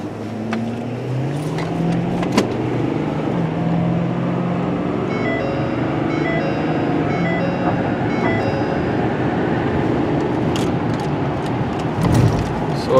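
A Ford 6.7 Powerstroke diesel pickup accelerates hard, its engine roaring loud and close as the revs climb steadily, with road and drivetrain noise blending underneath.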